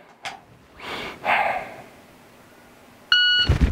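A shot timer beeps once, sharp and loud, near the end of a quiet stretch during dry fire pistol draw practice, with soft handling and breathing noises before it.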